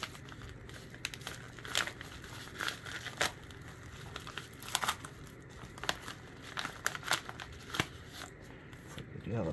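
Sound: unwrapping a package with a silver dollar and paper

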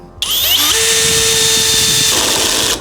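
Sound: cordless drill-driver CD-201HBC Compact driving self-tapping screws

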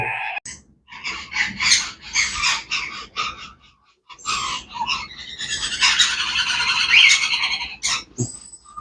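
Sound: African grey parrot chick squawking

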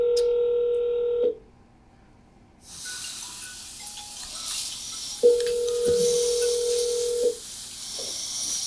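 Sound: telephone dialing an international number

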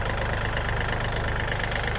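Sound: Kubota L3218SP 4WD tractor engine idling

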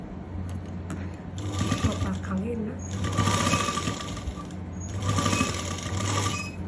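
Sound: sewing machine stitching elastic lace onto cloth

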